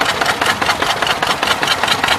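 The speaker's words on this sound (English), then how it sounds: "Little engine here. Looks like to be a little 2-stroke." Small two-stroke engine running at a steam rally, a brisk, even pulsing beat with a buzzy rattle, close and fairly loud, no voices over it.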